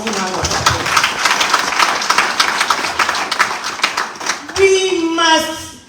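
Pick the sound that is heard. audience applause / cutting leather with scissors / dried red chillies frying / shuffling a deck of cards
audience applause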